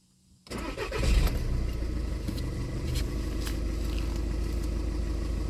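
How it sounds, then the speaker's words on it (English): A Volkswagen Golf engine cranks and catches after silence, a burst of starter noise settling within a second into a steady, loud, close idle rumble that continues evenly. "Try to start engine."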